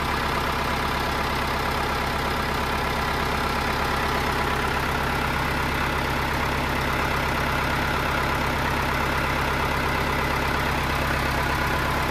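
A Ford 6610 tractor engine running steadily at idle, a loud, close, continuous diesel rumble with a fine rhythmic knock, alone with no talk for about twelve seconds.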